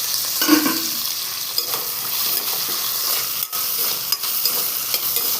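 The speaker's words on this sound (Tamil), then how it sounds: "வெங்காயம் நல்லா வதங்கணும்" Small onions sizzle and fry in a pan for chicken gravy, a continuous crackling hiss broken by repeated scraping stirs and light clinks of a spoon against the metal.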